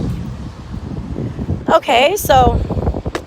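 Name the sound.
wind blowing into the microphone outdoors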